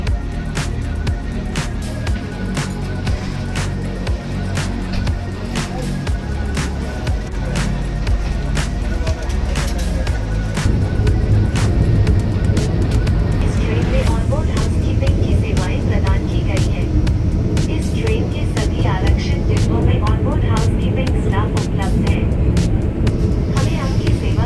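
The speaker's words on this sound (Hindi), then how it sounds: "तो अब यहाँ से ट्रेन ने भी अपनी रफ्तार बढ़ा दी" Inside a Vande Bharat express train as it gathers speed, a steady loud rumble and rolling clatter with rhythmic track knocks. The roar swells partway through and a voice talks over it.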